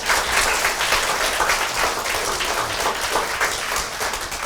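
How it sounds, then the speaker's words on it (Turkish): A class of primary school children applauding together during a drama lesson, a continuous, dense wash of many small hands clapping at steady loudness throughout, with no talk. "Arkadaşlar nasıl alkışlıyoruz?"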